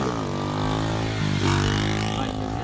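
Motorcycle revving hard while popping a wheelie, a loud close engine whine that climbs in pitch, dips briefly at a gear shift, then pulls again.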